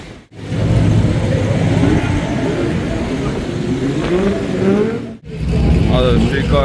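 Street cars idle, rumble and rev amid a busy outdoor crowd at the TX2K25 car event, with people talking nearby over the steady motor noise.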